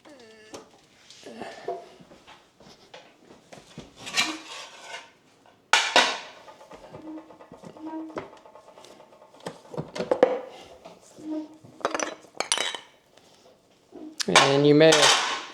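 Metal parts of a meat grinder clank, scrape and knock as it is taken apart for cleaning after grinding bulk breakfast sausage. The irregular, close clatter is louder near the end, with a voice speaking at times.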